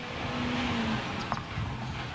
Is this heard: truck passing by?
yes